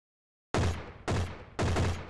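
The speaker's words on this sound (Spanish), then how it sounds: "ella me dispara" Three sharp, loud gunshot bursts in a VR chase game, evenly spaced about half a second apart, each with a quick ringing decay, after a moment of silence.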